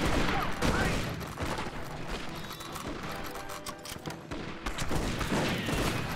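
Dense, sustained gunfire from the Xbox video game Red Dead Revolver, with loud overlapping shots and blasts that fits shotgun fire in a busy battle, continuing steadily throughout.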